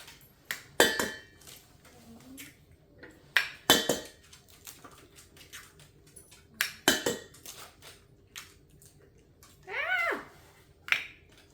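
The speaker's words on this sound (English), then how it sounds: "Now what you're gonna do is you're gonna take 6 eggs, crack them in here. I'm just gonna use this plate." Six eggs are cracked on the edge of a plate and emptied into a bowl in a home kitchen, producing several sharp, close knocks spaced out across the stretch, with soft shell handling and a brief clink in between.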